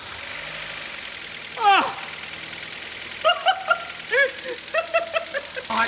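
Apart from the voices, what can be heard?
car engine started, ticky like a diesel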